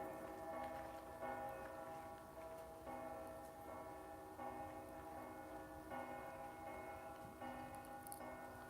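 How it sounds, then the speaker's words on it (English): Bells of the modern church of Pompeii ring in the distance, faint repeated tolling strokes at a steady rhythm, heard from the ancient theatre district over quiet outdoor ambience. "That is the bells from the modern church of Pompeii."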